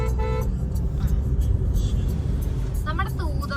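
A family car driven on a road during a trip, with a steady low rumble of engine and tyres and brief horn toots, while people talk inside the car.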